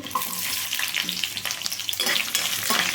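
Ginger and garlic fry lightly in a pan alongside cashew pieces for paneer butter masala, a close, busy crackling sizzle with some stirring and scraping throughout.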